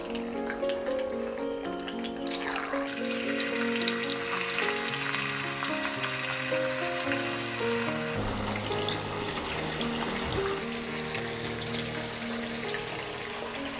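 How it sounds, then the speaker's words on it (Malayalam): Pieces of tuna fish frying in hot oil for a Kerala-style tuna curry, a loud steady sizzle with bursts of crackling and some stirring, heard alone without speech. "എണ്ണ ചൂടായി വന്നിട്ടുണ്ട്. അപ്പം നമുക്കിനി ഫിഷ് എടുത്ത് ഓരോന്നായിട്ടിടാം."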